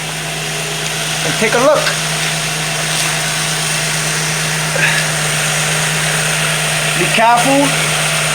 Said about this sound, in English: The car been running for like 20 minutes.